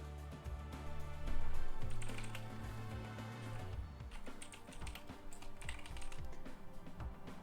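Rapid, hard clacking on a computer keyboard with coffee-damaged keys that fail to register, a dense run of keystrokes over a low background hum, fairly faint, with no talking.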